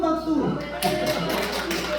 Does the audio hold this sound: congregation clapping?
yes